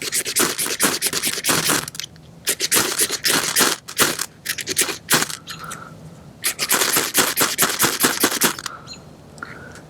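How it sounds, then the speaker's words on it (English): A ferro rod being struck repeatedly with a striker, producing bursts of sharp, rapid scraping rasps in quick clusters with brief pauses between, close and loud. "I've got a regular ferro rod here with a striker."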